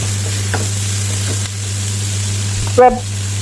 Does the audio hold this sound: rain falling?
no